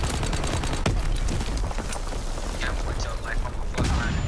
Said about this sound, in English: Firing primary weapon